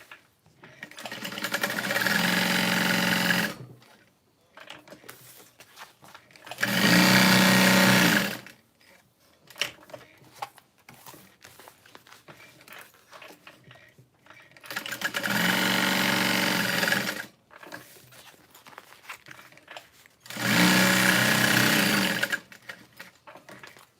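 A sewing machine stitches a Maisie bag with binding. It runs in four steady whirring bursts of a few seconds each, and quiet handling noises fill the pauses between them.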